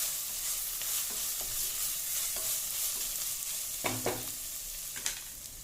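Onions sautéed until brown for tomato rice, a soft continuous sizzle broken by scraping stirs and a couple of louder spoon knocks toward the end, no talk.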